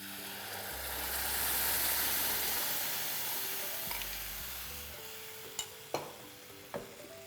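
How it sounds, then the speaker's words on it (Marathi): Ground masala paste tossed into reddish fried onions in a pan for Goan surmai fish curry, giving a steady sizzle with stirring and a few sharp scraping clicks near the end, close and with no talk. "ह्याच्यात ना आपण आता हा वाटलेला मसाला आहे ना तो घालून घेऊया।"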